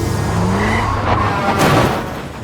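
A car overtaking a truck at speed loses control, tires squealing and skidding against loud engine and road noise in a brief, chaotic burst.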